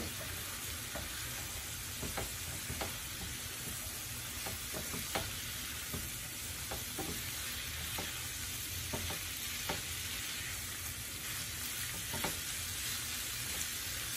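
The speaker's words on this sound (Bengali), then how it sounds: "এর মধ্যে এখন আমি মাছগুলোকে দিয়ে দিলাম।" Fish frying with transparent softened onions in a pan, a steady close sizzle with occasional stirring scrapes and clicks throughout, no voices.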